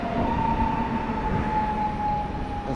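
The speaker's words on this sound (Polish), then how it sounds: "czy to pociąg lotniskowy zgadza się Warszawa lotnisko Chopina, to stacja docelowa" An airport train rolls steadily through Warszawa Toruńska station, a continuous rumble of wheels on rail with a thin whining tone running throughout, close and loud.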